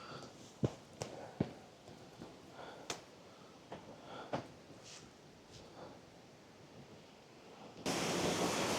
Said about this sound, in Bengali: এইখান থেকে ঝর্ণাটা নেমে আসছে